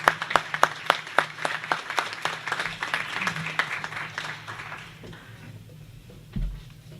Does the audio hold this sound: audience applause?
yes